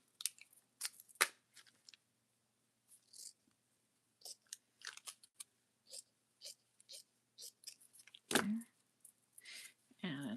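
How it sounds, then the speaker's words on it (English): Scissors snip paper for a junk journal in short, scattered crisp cuts close to the mic, with quiet gaps between them and a brief voice or rustle near the end. "Scissors."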